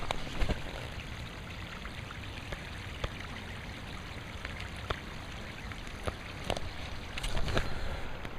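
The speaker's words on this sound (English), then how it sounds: "There is a creek running in the back of me." A creek runs steadily nearby, a continuous broadband wash of flowing water with scattered trickles and small splashes, faint and alone without speech.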